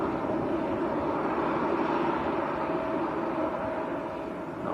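A UK Government Airbus A321neo taxis at Manchester Airport, producing a steady, fairly loud jet engine whine and broadband rumble that holds constant throughout with no talk over it.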